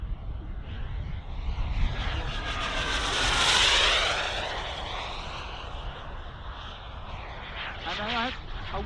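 A fiberglass and carbon-fibre model jet at an outdoor model airshow roars past, its turbine whine swelling to a loud peak then fading as it pulls away, while a commentator talks over it.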